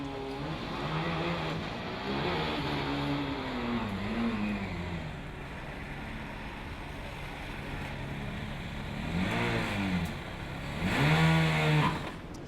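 A Formula Student race car engine revving on a skidpad, rising and falling whines from a high-revving small engine that fade to a distant drone and then swell again as the car passes nearer.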